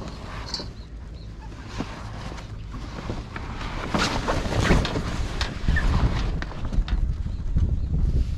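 Wind gusts through a marina around a sailboat, with constant rumbling buffeting and louder blasts building in the second half. Scattered knocks and creaks from the moored boat come through the gusts. No one speaks.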